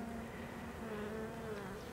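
A soft, steady hum of many buzzing honey bees, continuous and close, with no voices.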